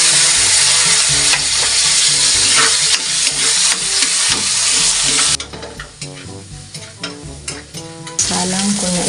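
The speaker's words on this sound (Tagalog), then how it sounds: "Isalang ko na rin itong sibuyas. Akin na rin isasalang itong kamatis." Onion and then tomato hitting a hot pan with oil sizzle loudly and steadily, while a utensil stirs and scrapes nearby. The frying hiss drops briefly as the second batch goes in, then swells again.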